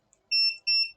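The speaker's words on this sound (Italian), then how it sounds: "il beep che riuscite a sentire" Two short, clean electronic beeps from a multimeter in continuity mode during a Nintendo Switch repair, close and bright, separated by a brief gap in otherwise quiet surroundings.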